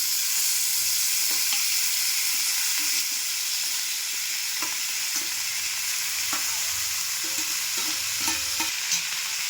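Chopped onions and tomatoes frying in a pan, a steady hissing sizzle throughout with occasional light spatula taps and scrapes, close by.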